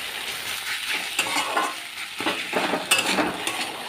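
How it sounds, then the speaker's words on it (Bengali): Snake gourd (chichinga) is stirred and fried over a high gas flame: a steady sizzle runs under repeated scraping strokes of a spatula against the pan, heard up close with no voices. "বাড়িয়ে দিয়ে ভালো করে নেড়ে চেটে এটাকে একটু ভেঙে ভেঙে দেব আর একটু ভাজা ভাজাও করে নেব"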